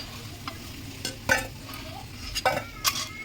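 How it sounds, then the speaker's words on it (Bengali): Potatoes fry in a pan with a soft sizzle under scattered scrapes and clanks of a spatula stirring, several bright metallic strokes spaced unevenly over a few seconds, no voices. "এই আলুটা এবারে লাল লাল করে ভেজে নেবো"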